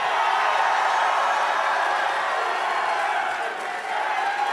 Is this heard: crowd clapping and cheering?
yes